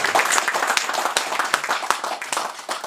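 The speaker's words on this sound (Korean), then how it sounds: "여러분들께 박수 한번" An audience at a lecture applauds, dense clapping from many hands that continues steadily and loudly throughout the clip, close to the microphone, with no talk over it.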